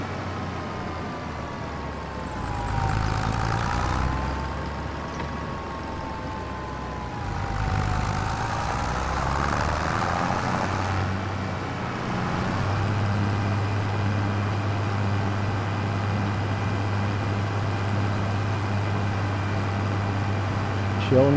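A tractor engine idles in Farming Simulator 25, a steady low hum with a faint tonal drone that swells gently twice before settling into an even rumble, under occasional quiet talk.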